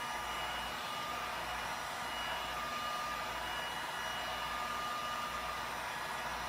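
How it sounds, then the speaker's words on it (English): A heat gun warms the adhesive of a motorcycle tank grip on a Daytona 675 and gives off a continuous, even hiss. The hiss is close and steady throughout. "then we'll take a heat gun and we'll heat it up a little bit just to make sure it adheres really well"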